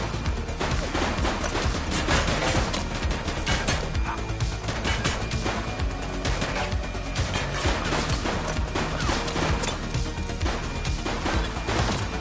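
Dense, continuous gunfire and crashing impacts in the police game The Precinct fill the scene, loud and close, with overlapping shots and smashes and no pauses.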